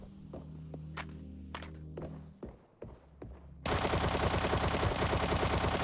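A light machine gun in the VR game Sweet Surrender, preceded by a few thuds and clicks, then a sudden sustained burst of rapid automatic fire that runs loud and continuous to the end.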